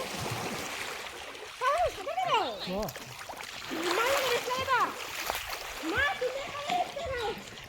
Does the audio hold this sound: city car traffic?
no